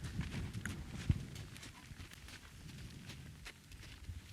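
A horse walks on open ground, its hooves giving soft, uneven clip-clop steps at a slow pace, faint and somewhat distant over a low background rumble.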